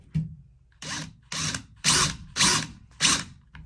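A power drill drives screws during a California Closet installation, giving five short whirring bursts separated by brief pauses, close and fairly loud.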